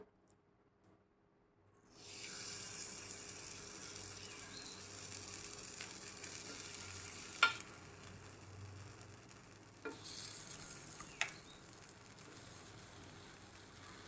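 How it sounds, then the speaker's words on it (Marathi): Makhana appe batter is spooned into hot oil in an appe pan and sets off a sudden, steady sizzle. A few sharp clicks of the spoon on the pan cut through the hiss, close and quiet, with no voices. "आता आप्पे सोडूया कडे कडेकडेने सोडायचं"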